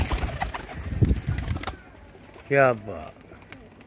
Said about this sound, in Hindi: ये है कबूतर, एक कबूतर का पुत्र है, बहुत ही अच्छा कबूतर माशाल्लाह